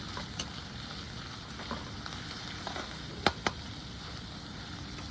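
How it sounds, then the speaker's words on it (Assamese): Onions frying in a pan until browned give a steady, quiet sizzle, with a few soft clicks and stirring taps over it. "এতিয়া পিঁয়াজটো অলপ ব্ৰাউন কালাৰ কৰি ল'ম"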